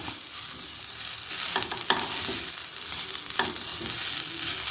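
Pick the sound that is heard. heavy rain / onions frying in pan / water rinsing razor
onions frying in pan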